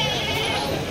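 Goats bleating at a crowded Eid ul Azha livestock market in Benares, a dense, continuous bleat mixed with market chatter and voices throughout.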